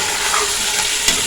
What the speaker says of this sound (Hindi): अब इन मसालों के साथ इसको भूनेंगे ताकि मसालों का जो फ्लेवर है ना वो भी ये गोश्त में आ जाए